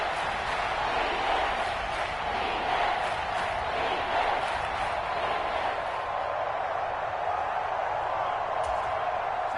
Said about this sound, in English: A big play here as the crowd noise rises